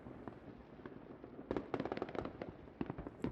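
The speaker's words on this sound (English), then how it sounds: "We were surrounded by a barrage of fireworks from the Gibraltar end of the bay" New Year fireworks bursting across Gibraltar bay, from the Gibraltar end around to La Linea on the Spanish side, heard from a marina: a distant rumbling backdrop that breaks into rapid clusters of sharp crackling pops and bangs.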